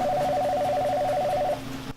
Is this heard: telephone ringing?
yes